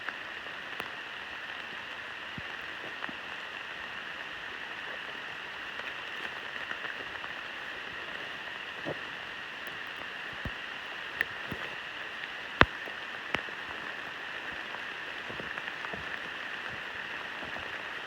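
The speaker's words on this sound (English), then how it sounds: "And it's pouring." Steady pouring rain falls through a Maine forest during an autumn hike, a constant hiss of drops on leaves and ground with a few sharper nearby drips and taps standing out.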